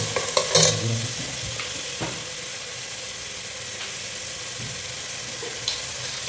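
About three grams of cumin seeds hit hot oil in a pan for a bottle gourd and potato gravy, opening with a few crackling pops and a stir, then settling into a steady close sizzle with no talk.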